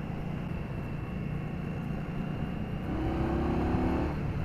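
A 2015 Indian Scout motorcycle engine runs at low RPM in third gear, a steady low rumble heard from the rider's position, with a faint rising whine near the end and no talking.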